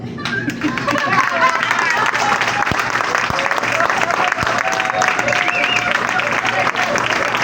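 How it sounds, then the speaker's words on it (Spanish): Sustained, loud applause from classmates for Orlando at a final project presentation for an intensive care course, a steady wash of clapping with voices mixed in. "Que hayan 3 olas de aplauso para Orlando"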